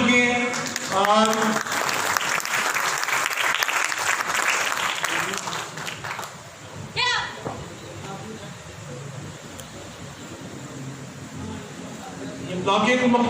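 Crowd at a taekwondo demonstration during a Defense Day celebration claps loudly for several seconds, then the applause fades to a quieter murmur as someone talks over it.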